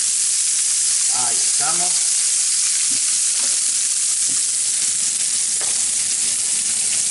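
Pati fish fries in its own fat in a pan with lemon juice added, giving a steady, loud sizzle that runs throughout, with a few brief faint voice sounds near the start.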